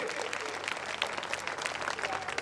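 Applause from the crowd at a large stage event in Rudauli, a moderately loud patter of many hands clapping steadily for a short stretch, with faint background voices.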